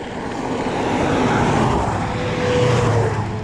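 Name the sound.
cars drag racing nearby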